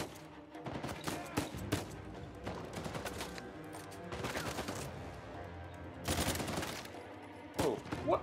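Enemy gunfire in Uncharted 4 rings out as repeated sharp bursts and volleys of shots, loud and close, layered over game music and ambience with no talking.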